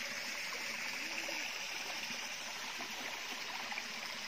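Water in a small stream spills over a mini waterfall, making a steady, soft rushing and gurgling that stays even throughout with no voices.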